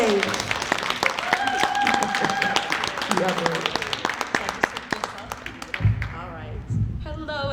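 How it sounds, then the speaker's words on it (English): A conference audience claps as a wealth speaker is called to the stage, a dense patter of hands that gradually thins and fades out near the end, with some crowd murmur. "Let's give her a nice hand clap and get her up here on the stage"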